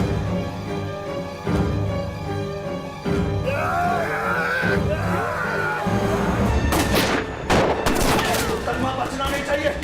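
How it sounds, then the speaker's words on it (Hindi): Gunfire in a shootout scene from an Indian crime drama series: loud, rapid overlapping volleys and bursts with crashes, intensifying and densest in the second half, with shouting voices mixed in. "फायरिंग कर, फायरिंग कर।"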